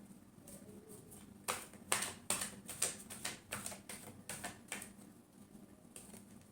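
Tarot cards being shuffled by hand during a reading, a run of quick, soft riffling bursts in an uneven rhythm, close and fairly quiet against a faint background hum.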